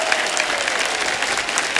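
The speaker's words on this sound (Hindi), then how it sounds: "इसके लिए मैं एक बार फिर से आपके लिए तालियां बजाऊंगा।" Studio audience at an Indian stand-up comedy competition show breaks into dense, steady applause throughout, loud and close with no pause.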